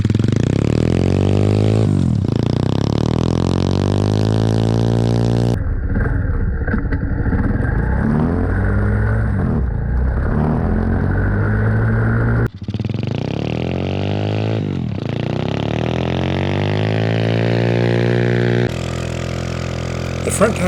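A tracked minibike engine drones steadily at close range, revving and bogging as it churns through rough ground, with pitch rising and falling across changes in throttle.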